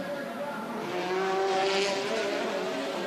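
Formula Renault race car driven by Nelson Merlo on a street circuit in Salvador, its engine whining past in a rising and falling pitch, moderately loud and close.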